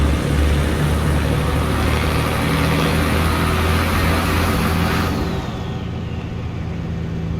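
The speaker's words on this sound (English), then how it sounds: "I want you to hear the engine a little bit." Engine of an International Emeryville truck in American Truck Simulator, a loud, steady low drone with rumbling texture under acceleration, easing slightly near the end, with no talking.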